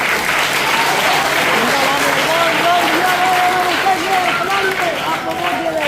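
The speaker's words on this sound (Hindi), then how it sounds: "एक बार आप सब बच्चों के लिए भी तालियां बजा दो जिन्होंने प्रोग्राम किया।" An audience at a school Independence Day celebration claps steadily and loudly throughout, dense applause with a singing voice carrying over it.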